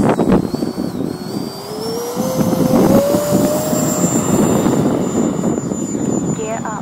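An HK Skysword RC model jet takes off with a steady loud roar and a rising whine that climbs in pitch, heard up close and continuous throughout.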